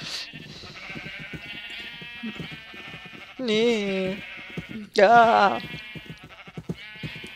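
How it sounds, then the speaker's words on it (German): Minecraft sheep bleat twice, loud and close, in wavering blasts among a flock, while German-speaking players chat and a voice answers briefly in between. "Ein Meer aus Schafen"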